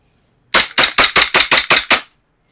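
An E&C 1102 G17 airsoft pistol fires over a chronograph: eight sharp, loud, evenly spaced shots in quick succession, recorded close with no talking.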